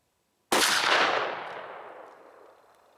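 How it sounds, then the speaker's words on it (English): A single loud shotgun blast from a Remington 870 12-gauge with a 24-inch barrel, firing Winchester Super X 8-pellet 000 buckshot through a Kicks choke, sharp onset followed by a long echoing decay outdoors, no talking. "take the shot and see just what Winchester 8 pellet triple aught shells can do through the Kicks buck kicker choke"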